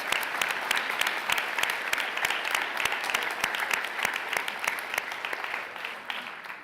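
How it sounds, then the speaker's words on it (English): An audience at a university chancellor's investiture gives steady applause for a symphonic band and chorus, dense clapping from many hands with a few sharper individual claps, sustained evenly for several seconds before easing slightly. "Another round of applause for the MSU Billings Symphonic Band and the University Chorus"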